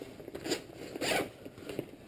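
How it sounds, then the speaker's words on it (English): Zipper pulled along a Kelty High Sierra Appalachian 75 backpack, closing off two separate compartments; a few quick raspy zips run close and clear with short pauses between, no talking. "you can zip it up so you have two separate compartments"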